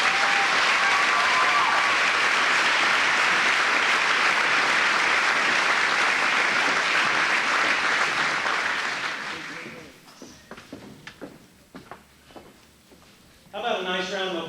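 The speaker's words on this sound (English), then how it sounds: "How about a nice round of applause for this remarkable" An audience at a high school graduation ceremony applauds loudly and steadily for several seconds. The clapping then fades into scattered claps and murmurs before a voice returns.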